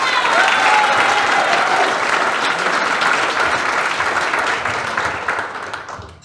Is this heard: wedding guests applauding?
yes